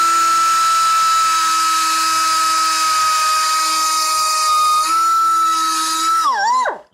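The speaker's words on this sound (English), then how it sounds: "those will just get a little bit of a grinding" A power grinder whines steadily on exhaust manifold welds in a garage fabrication shop, a loud sustained high tone that dips and winds down at the end.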